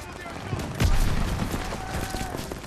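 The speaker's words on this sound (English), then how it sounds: "Oh, where am I getting shot from?" Gunfire from a Call of Duty WW2 battle on the Rhine, with one heavy shot standing out amid a steady crackle of distant firefights and explosions, mixed under in-game chatter.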